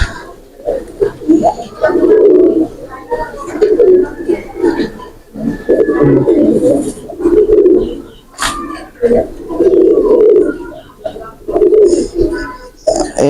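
Pakistani breed pigeons coo repeatedly in a loft, their low rolling calls rising and falling in phrases. Someone talks now and then over them.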